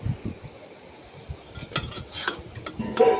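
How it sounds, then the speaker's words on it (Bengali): Cooked prawn curry (saur chingri) being scooped from a pan into a dish, with scattered scraping spoon strokes and metallic clinks against the pan, close and moderately loud, with no talking. "এবারে প্লেটে করে একটা পাত্রের মধ্যে তুলে নেব"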